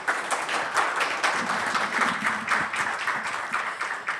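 A crowd at a banking-sector panel event claps steadily, a rhythmic patter of many hands at moderate volume that continues evenly without fading.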